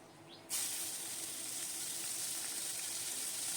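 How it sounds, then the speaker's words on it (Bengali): Thin, long-cut strips of bitter gourd hit hot mustard oil with a sudden sharp hiss that settles into a steady, loud sizzle and continues without pause. "এবার তিনটে উচ্ছে আমি কেটে রেখেছিলাম সরু সরু লম্বা লম্বা করে উচ্ছেটা ভেজে নিলাম"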